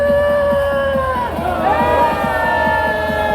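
A large crowd at a street political rally roars and cheers loudly and continuously, a dense wall of shouting voices with amplified sound over it.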